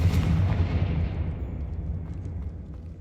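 Confringo and Incendio spells cast in the Hogwarts Legacy video game, a continuous loud booming, crackling blast that roars at the start and slowly fades over a few seconds.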